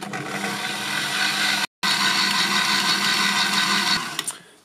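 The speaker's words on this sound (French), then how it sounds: "on va pouvoir commencer déjà à pétrir, juste farine et eau et levure du coup" Pizza dough of flour, water and yeast being kneaded, a steady, loud mechanical whirring that cuts out briefly once, then resumes and fades at the end.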